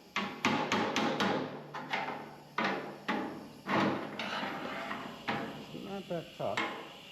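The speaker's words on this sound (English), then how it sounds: "So we're just going to hammer a bit of this out." Sharp metallic strikes ring out as a hammer beats dented sheet metal on the bottom corner of a 1955 Nomad car door, landing in irregular clusters close by, some quick and some spaced apart.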